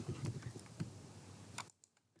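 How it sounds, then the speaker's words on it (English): Close typing on a computer keyboard at a desk: a quick run of soft, uneven key clicks that stops after about a second and a half, leaving near silence. "we are typing maintain item"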